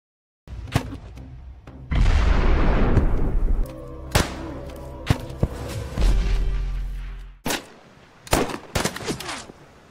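Gunfire from a film shootout, sharp loud shots and bursts with a sustained rumbling barrage, then scattered single cracks and a final quick cluster.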